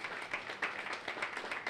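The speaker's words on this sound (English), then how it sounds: "Let's welcome Mr. Tony with a hand clap" An audience claps to welcome a keynote speaker at a gaming talk, a fairly faint, even patter of many hands with a few sharper claps standing out.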